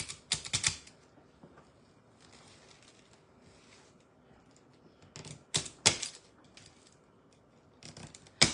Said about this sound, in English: This is my zip tie gun. Just going to use that to tighten them a little more and cut them off.